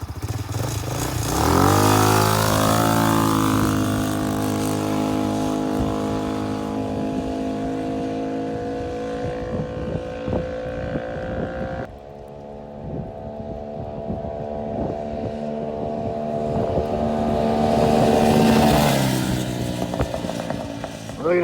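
A Tao Motors Bull 200 S ATV engine revs up and drones loudly as it drives along a street, dropping in pitch at a gear change midway, then climbing again toward the end.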